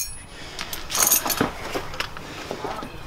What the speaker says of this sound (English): ratchet set the right way